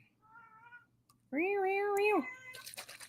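A cat meows nearby, a short soft mew followed by a longer, louder drawn-out meow, then some rustling.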